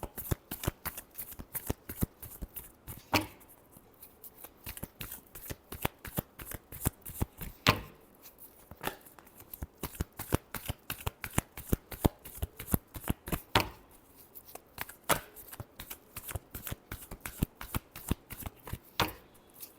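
Tarot cards being shuffled by hand in a long, steady run of crisp riffling snaps and slaps, close and fairly quiet, with brief pauses between bursts.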